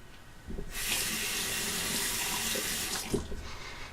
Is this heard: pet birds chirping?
no